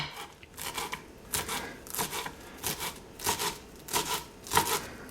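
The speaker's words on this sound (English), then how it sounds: "the best way to chop it is to bunch it up like this" A knife slices through a bunched-up handful of tender cilantro with soft stems, giving about nine close, crisp chopping strokes in a steady rhythm on a board, with no talking.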